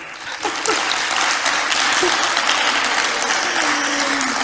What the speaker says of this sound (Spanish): A ver cómo suena ese aplauso.